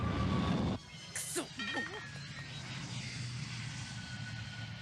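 Aircraft engine of a turboprop plane with rocket assist in the Macross anime, a steady loud droning roar that briefly dips and then runs on under brief chatter.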